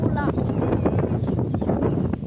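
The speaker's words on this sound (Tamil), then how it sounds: "உடனே வந்து செம்ம காற்று ஃப்ரெண்ட்ஸ், நல்லா ஜில்லுன்னு காற்று வருது ஃப்ரெண்ட்ஸ்." Strong, cool wind blows outdoors, roaring steadily and buffeting the microphone with a loud, continuous rush for the whole moment.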